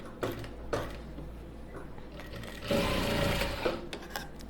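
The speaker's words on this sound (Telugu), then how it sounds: "ఇప్పుడు మనం టాకా వేసుకోవడం కోసం దీని పక్కన ఇంకొక స్టిచ్ వేసుకున్నాం." A sewing machine stitches a blouse in quick mechanical bursts, with a steady run near the middle between shorter starts and stops, close and clear with no talking.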